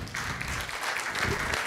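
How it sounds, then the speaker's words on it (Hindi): An audience breaks into applause for someone speaker at a hall event, a dense, steady wash of clapping that fills the whole moment. "एक बार जबरदस्त तालियां हो जाए मैम के लिए"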